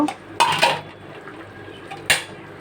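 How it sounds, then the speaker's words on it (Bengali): Cooked taro curry being tipped into a metal pot, heard as two short clattering bursts of cookware and a spoon scraping and clinking, with quiet gaps between them. "এখন একটা পাতিলে ঢেলে নেব"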